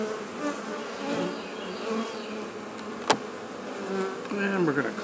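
Honey bees buzz steadily at an open hive during queen rearing, a dense continuous hum with one sharp click midway and a louder swell near the end, no talking.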